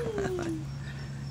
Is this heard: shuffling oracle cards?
no